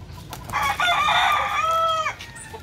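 A fighting rooster from a breeding line crows once, a loud, clear cock-a-doodle-doo rising and then holding a long harmonic note before cutting off, close to the listener with no talk over it.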